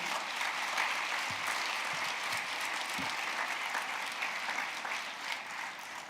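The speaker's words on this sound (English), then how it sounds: "if you want to give an applause," Audience applause at a muscular dystrophy conference, an even, continuous wash of many hands clapping at fairly low volume, steady from start to finish without talk.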